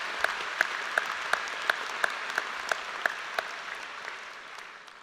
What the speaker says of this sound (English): You deserve to give yourselves and your brother rats a round of applause